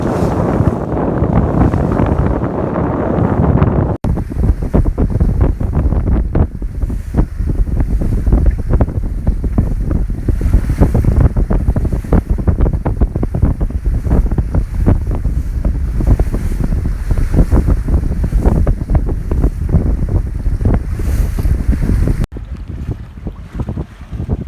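A Catalina 22 sailboat beating close hauled in Florida waters, with strong wind buffeting the microphone and waves slapping steadily against the hull, loud and unbroken throughout.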